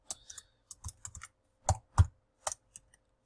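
Computer keyboard keys tapped while coding a jQuery form-validation script, a short uneven run of close, crisp clicks with a few harder strikes and brief pauses between them, no voice.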